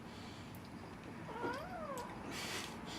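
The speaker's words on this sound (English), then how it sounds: "the cat's being really cute off camera." A cat meows off camera in a quiet kitchen, a single drawn-out, rising-then-falling call over low room hiss, with no talk.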